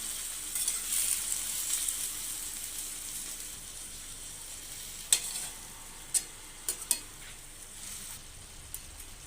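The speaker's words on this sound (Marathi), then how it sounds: "स्वच्छ धुतलेली मेथीची भाजी टाकून घेऊया आणि व्यवस्थित मिसळून घेऊयात" Washed fenugreek leaves are stirred into frying potato vegetable, a steady soft sizzle and hiss with a few sharp spoon clicks against the pan near the end.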